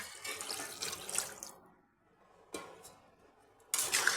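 Water splashes into a pan of cauliflower curry with salt and peas, coming in a few short pouring bursts separated by brief quiet gaps.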